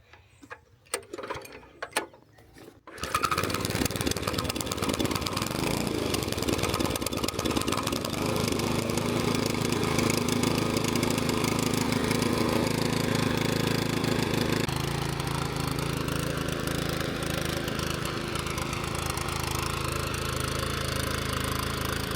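Repaired tractor engine with a freshly cleaned carburetor clatters into life after a few rough attempts, then runs in a loud, steady idle that settles slightly lower partway through.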